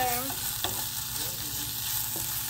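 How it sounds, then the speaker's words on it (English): Tomato paste being stirred into a bean stew in a pot, with a steady low sizzle of frying underneath and one or two faint utensil taps against the pot. "I'm just gonna stir"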